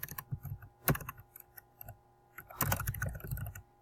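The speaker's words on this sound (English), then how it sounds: "you're going to type your first and last name." Name being typed on a computer keyboard, close soft key clicks arriving in short irregular bursts separated by brief pauses.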